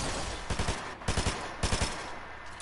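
Gunfire in Fortnite: three short bursts of automatic fire, each about three or four quick shots, moderately loud over a steady background hum.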